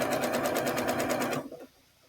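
A sewing machine stitching quilt block pieces together runs in a fast, steady chatter at close range, then slows and stops near the end, leaving a quiet room.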